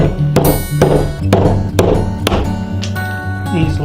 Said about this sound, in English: full 2-inch framing chisel here and remove a lot of this really quickly